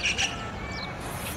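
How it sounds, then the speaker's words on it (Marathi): Sparrows chirp outdoors in the morning, a couple of quick bright tweets at the start followed by a softer trailing call over faint background hiss. "तर इकडे चिमण्याचा आवाज पण येऊन राहिला."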